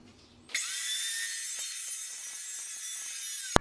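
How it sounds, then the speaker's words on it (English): A small saw cuts through a metal fence catch, starting abruptly and holding a steady, bright, hissing rasp for about three seconds, close and fairly loud, ending with a sharp snap and no voices. "or you could use just a little saw like that"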